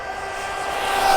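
A Traxxas RC car on a 6S battery runs at full throttle, a thin high-pitched motor whine that grows louder over about a second as it closes in.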